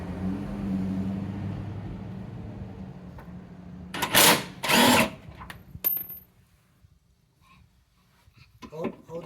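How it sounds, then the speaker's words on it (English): A power drill removes the rear cradle bushings on a 2015 Camaro SS, with two short, loud whirring bursts midway through, while people talk quietly in a garage before and after. "Hold the drill so it's comfortable"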